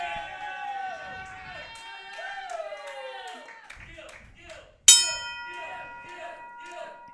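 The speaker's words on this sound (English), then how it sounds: "Opening bell has sounded." At a wrestling match, the opening bell rings once, a sharp, bright clang with a lingering ring, after an announcer speaks over a murmuring crowd.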